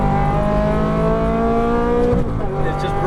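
An exotic sports car on a Las Vegas race track drones loudly with a steady engine note, then the pitch drops as it brakes, while an instructor talks over the noise.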